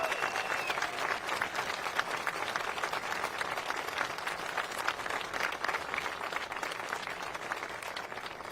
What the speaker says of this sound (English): Get some applause.